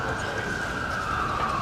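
A steady siren tone holds throughout, continuous and fairly loud over a dense rumbling background.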